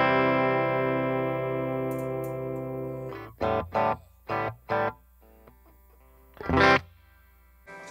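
A clean electric guitar chord through a Fender Blues Jr III tube amp rings out and slowly decays, followed by a few short plucked chords and a final strummed stab.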